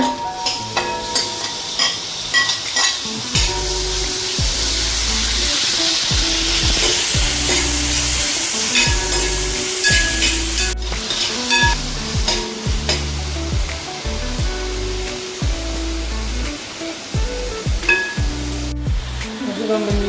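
Onions frying for a Kerala-style prawn curry, a loud continuous sizzle in a pan broken by repeated scraping stir strokes across the whole stretch, with no talk.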